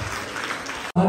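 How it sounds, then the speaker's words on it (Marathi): An audience claps loudly for participants at a village game-show event, a dense burst of applause that stops abruptly near the end, followed by a brief voice. "जोरात टाळ्या त्यांच्यासाठी."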